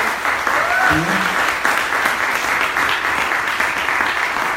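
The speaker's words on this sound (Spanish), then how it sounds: "un aplauso de bienvenida" A church congregation applauds in welcome, dense, loud clapping that carries on through the whole stretch, with a brief voice heard near the start.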